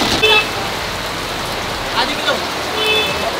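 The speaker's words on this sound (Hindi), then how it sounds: "देखो भाई बारिश यार, क्या जबरदस्त आ रही है, बहुत तेज है, बहुत तेज है।" Heavy rain drumming on a car while the wipers run continuously, a dense steady hiss with brief swells, heard from inside the vehicle.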